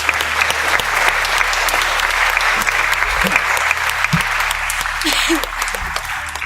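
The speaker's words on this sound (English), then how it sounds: "Round of applause for them all, guys." A studio audience at the Talent Search Cymru 2023 disco and dance show claps in a sustained round of applause, a dense and even wash of many hands throughout.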